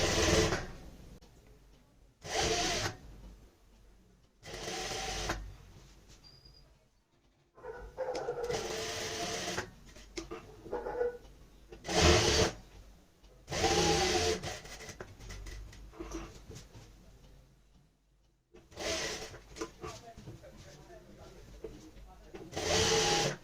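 Sewing machine stitching a kurti neckline right next to buckram, running in repeated short bursts of rapid whirring between pauses, with someone talking quietly in the gaps.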